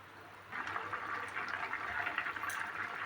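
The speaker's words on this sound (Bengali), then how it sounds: "তাহলে আমি আর একটুক্ষণ সেদ্ধ করব বন্ধুরা, আর একটুক্ষণ সেদ্ধ তারপরে আসছি।" Moong dal with drumsticks boiling in a kadai, giving a steady soft bubbling and simmering hiss that runs continuously at moderate level.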